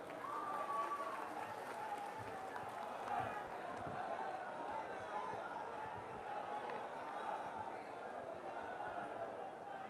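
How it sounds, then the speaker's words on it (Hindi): A crowd at a Congress party rally in Kashi applauds to welcome Ajay Kumar Lallu, a steady wash of clapping mixed with crowd chatter that holds fairly evenly throughout. "जोरदार तालियों से स्वागत करें।"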